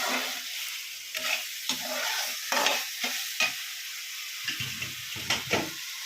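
Sliced bitter gourd frying in a pan, a soft steady sizzle broken by repeated scraping stirs and a few clinks of the spatula, close up with no talking.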